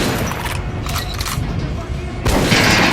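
A few heavy gunshots hitting an armored target in the Metro: Last Light Redux video game, sharp bursts over a loud, rumbling game backdrop.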